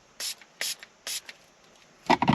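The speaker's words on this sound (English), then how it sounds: "So we're going to go ahead and just spray that really well." Liquid sprayed generously onto the sticky side of a protective film during a DIY boat protection install: three short, sharp hissing bursts evenly spaced, followed by a voice starting to speak.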